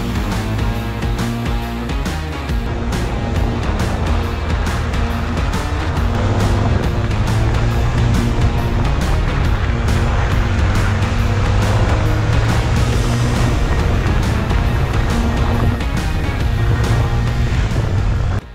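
Honda XRE 300 Adventure 2022 motorcycle on a test ride, engine droning steadily with broad wind rush and road noise, loud and continuous throughout.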